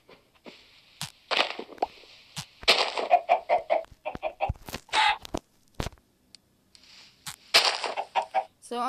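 Chicken clucks and squawks from the Minecraft video game come in quick irregular bursts, fairly close and sharp, mixed with short clicky game sounds.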